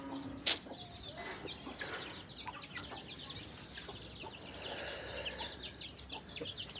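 A rooster clucks softly amid a morning farmyard, with a sharp click early on and scattered faint bird calls and movement throughout, the fowl sounds moderately near but quiet.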